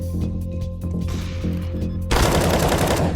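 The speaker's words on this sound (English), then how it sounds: "He shot through the wall." Rapid automatic gunfire in a first-person shooter video game, fired through a wall: a steady rattle of shots that turns into a loud, dense burst near the end, with no talking.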